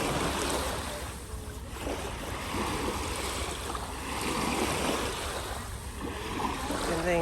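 Continuous rushing of sea waves with wind at Cannes, France, swelling and easing in broad surges, no talk over it.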